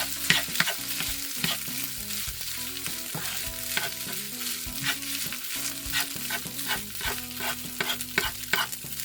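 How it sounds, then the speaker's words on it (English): A spoon stirs food frying in butter in a home-kitchen pan, making continuous scraping and shuffling strokes over a steady close sizzle, with soft tonal sounds running underneath. "Now I'm just going to use a spoon to kind of stir everything around in there."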